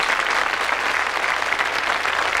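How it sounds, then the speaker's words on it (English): A television studio audience applauds loudly and continuously, an even burst of clapping, on the 1981 game show 3-2-1. "Give them a round of applause, folks, won't you?"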